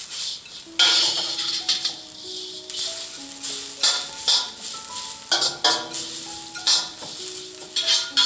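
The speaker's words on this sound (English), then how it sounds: "Flip the noodles and pan fry the other side." Crispy noodles pan frying in a wok, a loud hissing sizzle in surges, with metal utensil clinks and scrapes ringing through as the noodles are flipped.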